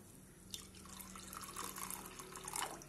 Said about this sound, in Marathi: आता पहा मी कढई गरम करायला ठेवलेली आहे आणि त्यामध्ये पाणी टाकणार आहे